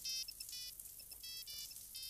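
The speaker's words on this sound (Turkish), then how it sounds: "telefon" A telephone rings with an electronic ringtone, quiet, high-pitched bursts of chirping tones repeating in a quick rhythm.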